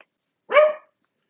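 A single dog bark, one short loud yelp-like woof indoors, alone against silence.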